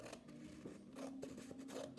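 Scissors snip through paper during a children's church craft of spring flowers, a few quiet, close cuts in quick succession with no talking.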